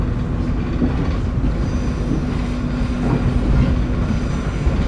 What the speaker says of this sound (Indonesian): Kita bersilang dengan kereta Parahyangan yang pakai rangkaiannya Padalungan